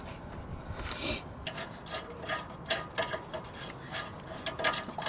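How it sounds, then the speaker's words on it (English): A spanner ratchets and rasps against brake caliper bolts on a VW Eos, close-up metallic scraping in short uneven strokes. "Now that they're loosened slightly, I can just use the spanner now"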